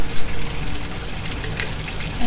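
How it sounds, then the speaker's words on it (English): Cold water poured steadily into a glass lab flask, a continuous loud gushing wash with a brief brighter splash partway through. "I'm going to pour some into the flask"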